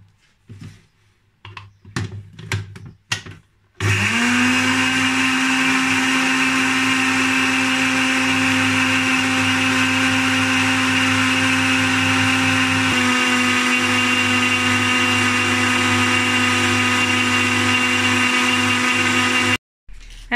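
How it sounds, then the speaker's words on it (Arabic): A few clicks and knocks, then an electric blender mixing semolina cake batter whirs loudly and steadily for about fifteen seconds before cutting off abruptly. "نخلط في الخلاط"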